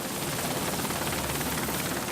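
A helicopter used to evacuate injured migrants to a hospital, its rotor and engine a steady, loud, continuous roar throughout, with no voices over it.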